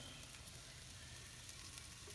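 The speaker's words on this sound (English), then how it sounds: "you hear that sizzling? Oh man. Got some racks of ribs going" A steady, crackling sizzle of racks of ribs cooking on a grill over high heat, continuous and close, with no voices.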